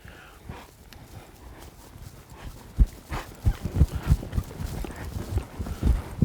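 A horse's hooves beat on the ground during a ride, the footfalls growing louder and more regular toward the end in a steady trotting rhythm, close, with no talk.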